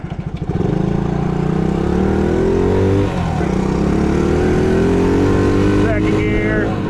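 Engine of a 1970 Honda ATC US90 three-wheeler running in the low range and shifting up through the gears, a loud, close, buzzing small-engine drone that rises in pitch, drops briefly at a shift, then climbs again.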